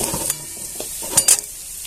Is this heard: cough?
no